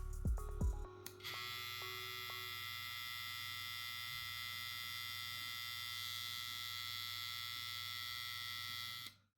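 A Lence Pro FF1T hair clipper starts up after a few clicks and hums steadily at close range, a thin, even high-pitched whine with a low buzz underneath that holds until an abrupt stop.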